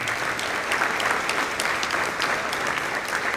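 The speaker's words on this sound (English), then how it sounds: "So let's give her another round of applause." Steady applause from a football banquet audience fills the room, a dense even wash of many hands clapping at close range with no break.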